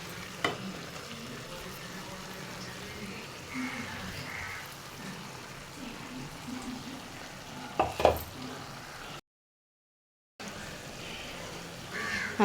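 Ground spice paste for a peera curry sizzles in a pan while being stirred. Faint, steady frying crackle runs throughout, with a couple of sharper scraping stirs, a brief dropout, and no talking.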